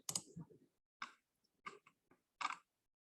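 Mouse clicks in a quiet room, several short sharp clicks spaced irregularly, close and distinct.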